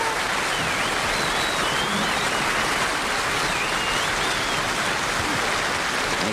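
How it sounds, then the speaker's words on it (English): A studio audience at a variety show applauds guest star Roger Miller with steady, sustained, loud clapping that fills the whole stretch like heavy rain, with occasional faint whistles and cheers mixed in. "asking for one last round of applause for our guest star"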